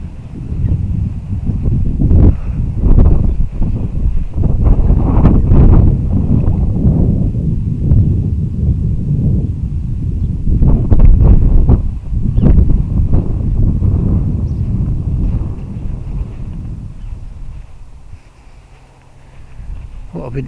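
Strong wind gusts buffet the microphone on a warm, windy day outdoors by an old bell tower and cast iron gates, a loud continuous low roar that swells and eases, fading toward the end.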